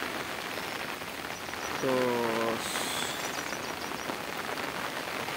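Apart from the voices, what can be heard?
rain falling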